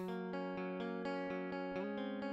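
A verse guitar part played back as a direct DI signal from a recording session for a song, with sustained chords and steady picked attacks, fairly quiet and alone.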